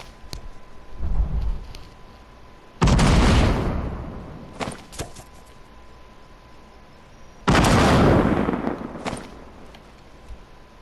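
Clinger grenades in the Fortnite video game burst in two loud, booming explosions several seconds apart, each with a sharp onset and a rumbling decay, with faint clicks and game sounds in between.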